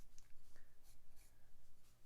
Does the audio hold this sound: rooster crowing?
no